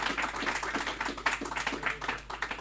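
Rapid, uneven clapping from a small group, close and fairly quiet, continuing steadily for a few seconds.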